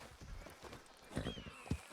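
Horse hooves clip-clop at a steady walking pace in Red Dead Redemption 2, a run of soft, close thuds with two sharper hits toward the end, over a faint ambient game background.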